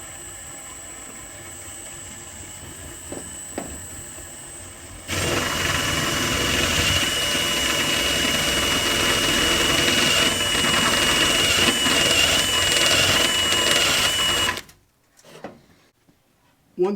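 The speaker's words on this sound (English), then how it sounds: "Then I just get a step bit and I'll run that up through." A step drill bit bores up through a mounting hole while fitting an LED ColorShift rock light, a steady loud drilling whine lasting about ten seconds before cutting off abruptly, with quiet ambient noise before it.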